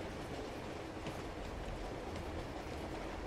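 In the video game Uncharted 2, a moving train gives a continuous, faint rumble and rolling rattle with no distinct breaks, heard alone at a steady level.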